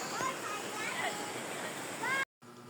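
Steady rushing water of a river fills the whole stretch at moderate level, with faint bird chirps on top and a brief dropout near the end.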